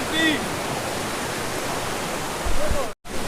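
A strong stream current rushes steadily below a hidden waterfall in the Assam hills, a loud continuous broadband roar close by, with a brief voice near the start and the noise cutting out for a moment near the end.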